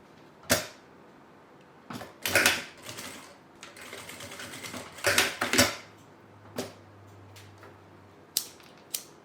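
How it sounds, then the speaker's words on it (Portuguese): A sewing machine runs in short stitching bursts, stopping and starting as it reverses direction to lock the seam on a small shoulder bag, with mechanical clicks and creaks between runs. "E agora eu vou fazer um retrocesso para poder segurar os meus tecidos e prender"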